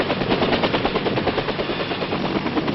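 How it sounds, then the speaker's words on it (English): Military assault helicopters arrive at a pickup zone with a continuous rapid rotor chop, loud and steady, and no voices over it. "Assault helicopters arrive in their pre-designated pickup zones"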